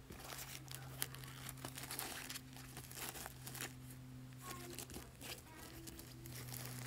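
Plastic packaging of Tesco sanitary pads with wings crinkles and rustles in soft, intermittent handling bursts, fairly quiet and close, over a steady low hum.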